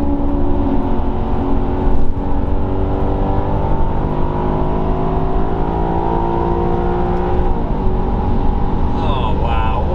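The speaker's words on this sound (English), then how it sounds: "Hear that overruns on that exhaust." Maserati Quattroporte engine droning loud and close as it accelerates hard on a de-restricted German Autobahn, a steady rising tone; the exhaust overrun crackle itself is not clearly distinct.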